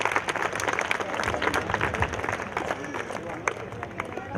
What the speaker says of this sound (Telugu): వాళ్ళకి గట్టిగా క్లాప్స్ కొట్టండి.